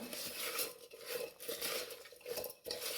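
Lime pickle ingredients are stirred together in a pot, with a steady clatter and scrape of a metal spoon against the pot coming in uneven bursts, close and fairly soft.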